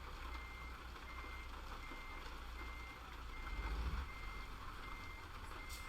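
A truck backing in gives off a steady series of electronic reversing beeps, evenly spaced and fairly faint over a low engine rumble that swells briefly midway.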